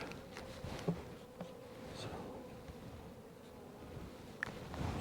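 Bees buzz steadily around beehives as the hives are handled outdoors, a dense continuous drone with single insects passing close, plus light knocks and handling noises and no speech.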